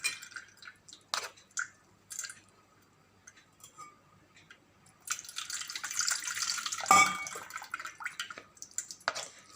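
Cold tap water running in a kitchen sink while something is rinsed to remove a lemon smell. Scattered drips and light clinks come first, then a steady, louder close rush of running water with splashes.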